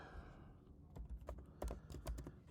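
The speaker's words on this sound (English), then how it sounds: "I'm going to type." Typing on a computer keyboard while entering text in a basic editor for a Cricut Maker, a quick, irregular run of close, soft key clicks at low volume.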